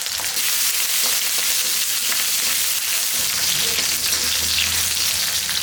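Pepper, cumin, garlic, shallots and curry leaves sauté in a pan, giving a loud, steady hiss of oil and frying spices that continues without pause.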